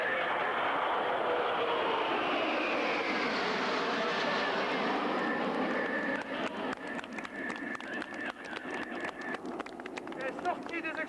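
Eight Patrouille de France jets in tight formation sweep past over the BA 278 Ambérieu-en-Bugey air base, a loud, sustained roar whose pitch shifts as they pass and then breaks into a ragged, fluttering rumble as they move away.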